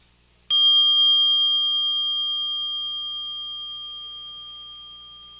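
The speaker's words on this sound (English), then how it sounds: "Listen to the sound of the bell until you can't hear it anymore." A single bell strikes once, clear and bright, then its ringing tone slowly fades over several seconds into silence.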